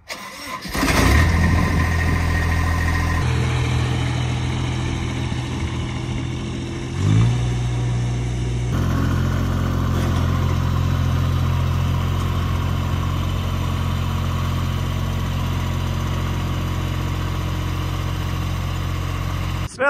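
A lawn mower engine cranks and catches, then settles into a steady, close, low idle with a brief rev midway before running on evenly.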